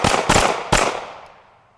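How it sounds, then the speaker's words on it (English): Three rapid pistol shots fired in quick succession during a quick-draw drill, each a loud, sharp bang with the last one's echo trailing away into quiet. "So from a quick draw, quick to the target, three shots."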